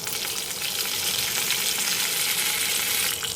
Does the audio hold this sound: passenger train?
no